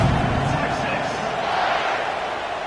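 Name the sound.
crowd buzzing at college football stadium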